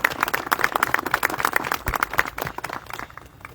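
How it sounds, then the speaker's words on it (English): Applause from an audience at an outdoor zoo groundbreaking ceremony for an animal hospital, a steady patter of clapping hands that carries on evenly before tapering off slightly toward the end. "So please give them a round of applause."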